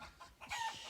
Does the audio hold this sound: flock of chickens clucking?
yes